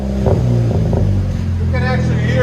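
Idling VW GLI 2.0L turbo with its resonator deleted, a steady low exhaust rumble running throughout, with voices talking over it and a brief higher whine near the end.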